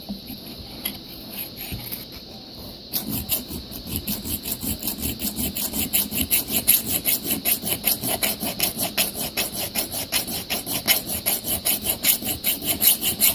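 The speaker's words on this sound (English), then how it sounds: "you are putting a lot of pressure on it with the file in there" A metal file rasps steadily along the bevel of an axe head under heavy pressure, a close, loud rhythmic scraping of repeated strokes that starts after a quieter opening and continues evenly throughout.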